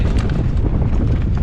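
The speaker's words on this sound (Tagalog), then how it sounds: "Ang lakas na ng hangin." Strong wind buffets the microphone on a rocky shore, making a loud, continuous low rumble and roar with no other clear sounds.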